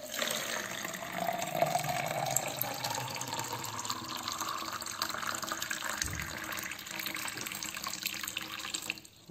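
Water pours steadily from a tap or container into a big container meant for a sprouted avocado seed, a continuous splashing flow that runs for several seconds before tapering off.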